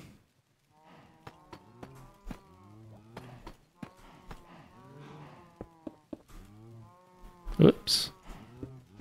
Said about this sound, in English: just far enough to where you don't hear them mooing